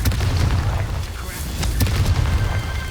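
A Confringo spell blasts in Hogwarts Legacy, with deep rumbling booms and sharp bursts layered over continuous low game-battle noise, loud and close throughout.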